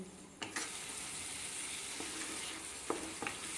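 Spice masala fries in a pan with a steady, fairly quiet sizzle, and a few sharp scrapes and clinks from stirring stand out at intervals.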